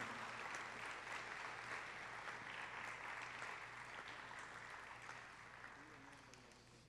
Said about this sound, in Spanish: les recibimos con ese aplauso caluroso que nos caracteriza en agradecimiento